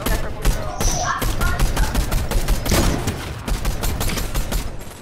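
Rapid automatic gunfire from a video game firefight, a dense run of loud, sharp shots filling the whole stretch with little pause, with brief voices mixed in.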